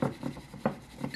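A bamboo whisk brushes quickly through matcha in a bowl, making a soft, rhythmic scraping swish in a few quick strokes, close and quiet.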